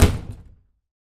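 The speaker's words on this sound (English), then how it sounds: "He exits, but not before slamming the door shut." A front door slams shut with a single heavy thud that sounds close and loud, then fades into silence within about half a second. There is no talk.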